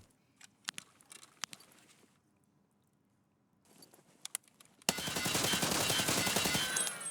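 Rifle fire in Escape from Tarkov: several sharp single shots in spaced bursts, then a short rapid string, before a loud wash of broadband noise fills the last seconds.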